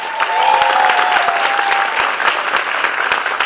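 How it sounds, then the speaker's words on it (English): Sustained applause from an awards-ceremony audience at the Miami Web Fest, a dense steady clapping that fills the whole stretch, with a few faint tones ringing through early on. "Another round of applause."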